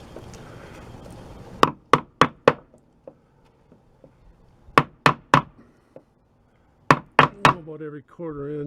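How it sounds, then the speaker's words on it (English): A 1-inch wood chisel is struck into a 2x4 wooden door frame, giving three bursts of three or four sharp, close, loud taps separated by quiet pauses, with a brief voice at the very end. "What I'm going to do is take a 1-inch wood chisel"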